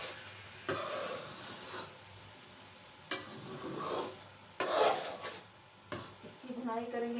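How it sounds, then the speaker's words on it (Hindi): Grated carrots for carrot halwa are roasted and stirred in a generous amount of desi ghee in a pot, heard as a faint sizzle with several sharp scraping stirs and clatters. "इसकी भुनाई करेंगे हम देसी घी के साथ।"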